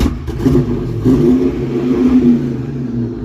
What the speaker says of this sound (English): Got a little bit of backfiring through the carburetor, but it sounds good, buddy